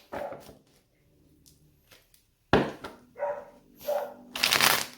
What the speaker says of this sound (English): 3 more shuffles for Capricorn's person.